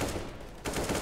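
Rapid gunfire in Counter-Strike: Global Offensive during a professional match on the Cobblestone map, loud bursts that dip briefly and then return with sharper repeated shots.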